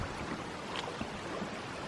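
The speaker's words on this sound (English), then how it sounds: "Here's the creek" Small creek in Wyoming–Montana bear country flowing steadily, a constant broad rushing and babbling of water close by, with no voices.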